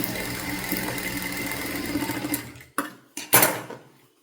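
A sewing machine stitches together two fabric pieces for a child's top, running in a steady, continuous mechanical whir for over two seconds and then stopping and starting in a few short bursts.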